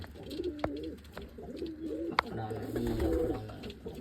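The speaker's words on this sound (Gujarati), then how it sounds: "સૌથી મોટું કબૂતર આ બચ્ચા" A large American pigeon coos repeatedly in low, rolling phrases nearby, with a couple of sharp knocks or clicks and quiet background noise around the calls.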